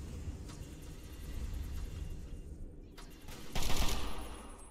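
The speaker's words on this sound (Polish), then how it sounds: "O kurwa, ktoś strzela." Gunfire in the video game Fallout 3, sustained distant-sounding bursts over a rumbling background, with a louder flurry near the end and no talking.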